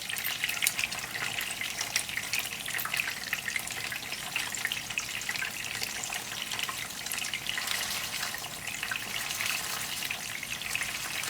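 Beef chapli kabab fries in a pan with a dense, loud, continuous sizzle and crackle that holds evenly throughout, with no voices over it.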